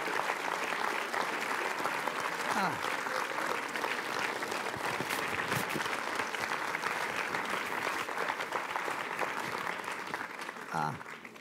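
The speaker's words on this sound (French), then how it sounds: "applaudissements." Sustained applause from an audience at a university tribute ceremony in Toulouse, steady and dense for about eleven seconds with no break.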